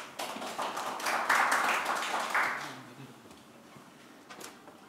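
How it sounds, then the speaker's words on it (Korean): Audience at a policy forum on a civic reunification movement clapping to welcome a presenter, a moderate burst of applause that swells and then fades away within a few seconds. "큰 박수로 환영해 주십시오"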